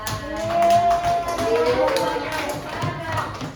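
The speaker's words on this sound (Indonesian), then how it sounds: "Tepuk tangan buat Najwa" Classroom clapping for a pupil named Najwa, a run of sharp, uneven hand claps from a small group, mixed with children's voices talking over it throughout.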